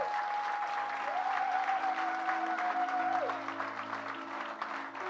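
A church congregation applauding after a sermon, sustained clapping from a crowd with a held organ or keyboard tone underneath, fading slightly toward the end.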